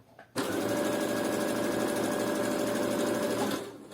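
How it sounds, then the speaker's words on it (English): A sewing machine runs a straight stitch along the bottom seam of high-waisted shorts, starting with a sharp onset and holding a steady, close, continuous whir for about three seconds before stopping. "So I'm going to use a straight stitch here, and we're just going to go over this one bottom seam multiple times."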